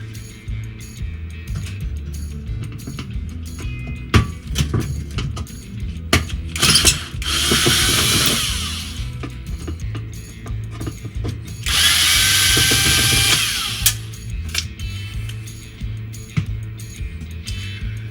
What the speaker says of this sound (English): So why don't we go ahead and we'll loosen the screws.